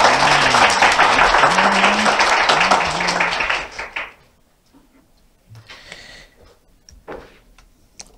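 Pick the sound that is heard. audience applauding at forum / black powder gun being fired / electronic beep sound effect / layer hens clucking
audience applauding at forum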